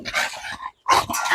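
An exotic bully dog growls and grumbles in two short, loud, close bursts separated by a brief pause, with no talking.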